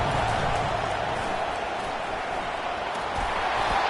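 Stadium crowd noise in College Football 25, a steady dense roar of cheering spectators that stays loud and constant throughout a big third-down play.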